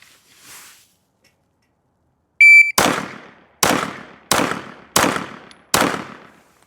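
A shot timer gives a sharp electronic beep, then a Glock 45 pistol fires five loud, close shots at roughly even intervals, each crack followed by a short ringing decay.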